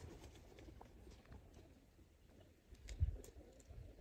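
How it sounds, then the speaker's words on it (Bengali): Pigeons in a loft in Oman give faint, low cooing murmurs against quiet background hum, with one short thump partway through and no speech. "কবুতর আপনাদেরকে একেবারে টকটকা লাল চোখের লাইভ একটা বার্ড দেখাচ্ছি, দেখেন ফিমেল বার্ড"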